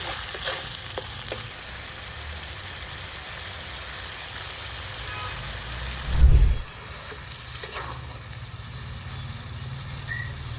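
Ground spices being sautéed and stirred for a thin country chicken curry with potatoes, a soft, steady sizzle with one brief louder knock of the spoon partway through.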